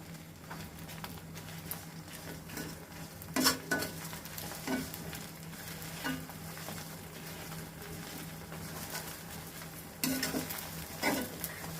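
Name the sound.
herbs frying in mustard oil for herbal hair oil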